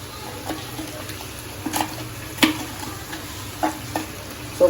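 Chicken curry frying in a pan as ginger garlic paste goes in, with a soft steady sizzle and a few clinks and stirring scrapes over it.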